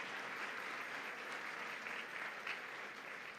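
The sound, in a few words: applause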